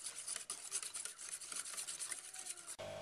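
Instant pudding mix is stirred briskly into about 700 ml of milk in a bowl, a close, steady scraping and swishing rasp that runs continuously, with no talk.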